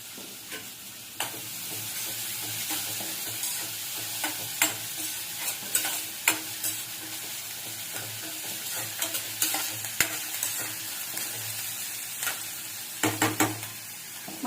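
Onions fry in a pan for a palak chicken curry, a steady sizzle under repeated scraping stirs and sharp knocks of the spoon against the pan, with no talking.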